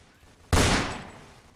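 A single sharp gunshot in the Roblox Fortnite video game blasts out after a quiet start, then trails off in a long decaying echo, loud and isolated with no talk over it.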